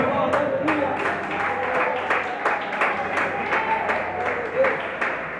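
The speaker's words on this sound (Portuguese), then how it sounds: "Pode se assentar e aplaudir o nome santo do Senhor, amada igreja." Rhythmic applause from a church congregation during a worship service, with distinct claps in a steady beat, moderately loud, and voices carrying faintly underneath.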